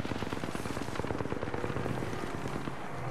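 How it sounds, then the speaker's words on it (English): Rapid automatic gunfire in the video game Apex Legends rattles in dense, fast bursts at moderate loudness, continuous for a few seconds without talk. "I am taking fire, friends."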